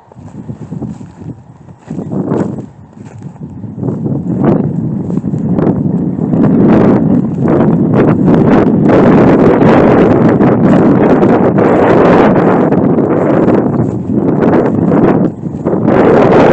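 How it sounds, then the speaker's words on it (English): Strong, steady wind roars across the microphone on a horse trail, building from gusty bursts into a constant loud buffeting that holds for most of the stretch with brief dips, alone with no voices. "the wind's picking up"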